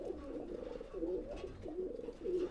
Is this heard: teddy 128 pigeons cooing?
yes